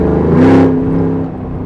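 An LS3 V8 swapped into a Land Rover Defender 110 gives a short, loud rev that rises and falls back to a deep, close idle rumble.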